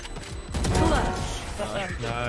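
Game explosion and gunfire effects from a swarm grenade going off in Valorant, a dense burst of crackling blasts that rolls through the whole moment, with voices in game chat mixed underneath.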